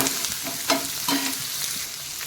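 Onion and green chilli frying in a pan over low heat, a close, continuous sizzle with a couple of sharper stirring scrapes, no voices.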